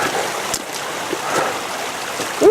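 A waterfall on a river in Japan produces a steady rushing hiss of falling water, with a few louder splashes standing out from the flow.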